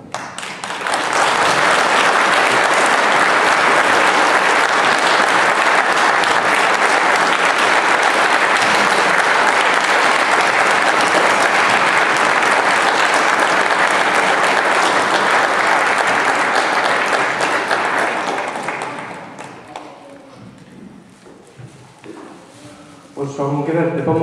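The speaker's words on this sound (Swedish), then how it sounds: "om hon får en riktigt lång applåd" Long, loud, sustained applause from an audience in a church after a Christmas story performance, a dense unbroken roar of clapping that fades near the end into scattered claps and murmuring voices.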